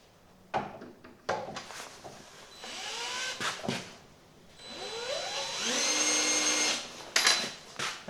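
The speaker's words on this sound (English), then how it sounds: "Not sure how hard this is, so hopefully it's not too hard to drill." A 5/16 drill bores holes for a light bar bracket on a 1988 Ford Ranger, with several short bursts of whining motor that rise and fall in pitch, plus clicks and handling noise between them.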